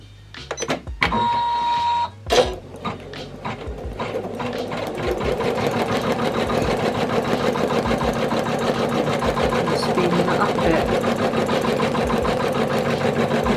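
A single-needle embroidery machine stitches a placement line on wool felt, running at about 400 stitches per minute: after a few starting clicks and thumps it settles into a loud, fast, even mechanical chatter close by.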